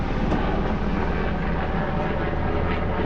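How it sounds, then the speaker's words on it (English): An army helicopter flying overhead, heard as a steady, loud rumbling drone that fills the whole stretch without breaks. "There's a helicopter going by."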